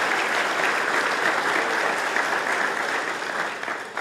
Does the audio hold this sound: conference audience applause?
yes